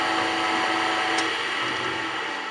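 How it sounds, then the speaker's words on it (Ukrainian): A power drill boring holes in a variator gear, a continuous close whine and grinding drone that runs without pause and with no talking. "Я вже просверлив, досверлюю буквально."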